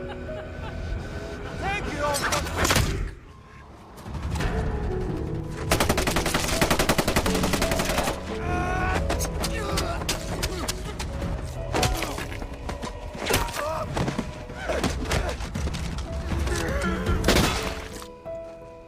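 Rapid bursts of automatic gunfire in a film battle scene, loud and sustained with brief pauses, layered over dense action effects and music.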